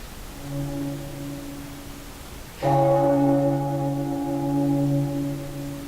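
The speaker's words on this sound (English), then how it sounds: "The bell invites me." A bell tolls during a stage performance of Macbeth, a steady low hum giving way to a single loud, ringing stroke whose bright overtones linger and slowly fade, with no voices over it.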